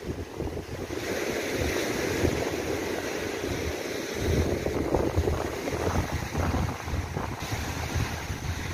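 Strong wind gusting across Lake Baikal as large waves crash and wash continuously, with heavy rumbling wind buffeting the microphone throughout, close and loud with no talk.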